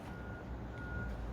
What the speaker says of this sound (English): the bulldozer beeps when it backs up. So you'll be hearing that beeping sound